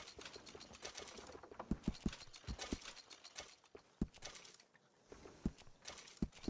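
Horse hooves clip-clopping at a walk in Red Dead Redemption 2, a steady irregular patter of close, crisp knocks mixed with faint creaking of tack.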